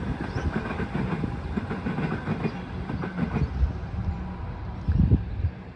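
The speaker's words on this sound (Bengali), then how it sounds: "এখানে ট্রেন যাচ্ছে," A train rolls past near Laverton station with a continuous rumbling clatter of wheels on rails and a few sharper knocks near the end, close and fairly loud, with no talk.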